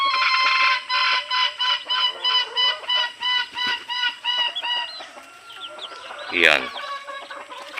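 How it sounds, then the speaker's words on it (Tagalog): Red junglefowl cluck in a rapid, regular series of sharp close calls for about five seconds, then a louder squawk stands out against quieter background; someone speaks briefly. "So ito yung mga alaga ko ngayon na mga labuyo."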